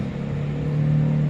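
A motorized tricycle's engine rumbles close by, a steady droning hum that swells slightly as it passes, with no talking.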